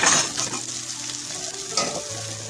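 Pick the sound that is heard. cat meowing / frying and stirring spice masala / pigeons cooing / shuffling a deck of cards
frying and stirring spice masala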